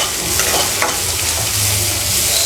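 Onions fry in a pan with a loud, close sizzle, and stirring scrapes and clatters break in now and then. The frying continues without speech.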